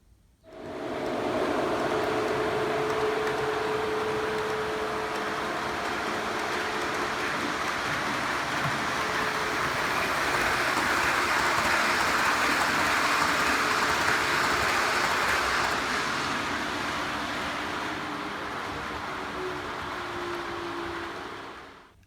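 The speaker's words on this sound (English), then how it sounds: "There'll be some trains running on the layout." A model train rolls along its track with a continuous whirring rumble and faint clatter, steady and close for the whole stretch. Recorded on a model railway layout.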